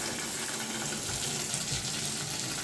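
Water runs steadily through a carbon filter, a continuous broadband hiss and gush like a running tap, fairly loud and unbroken with no voices.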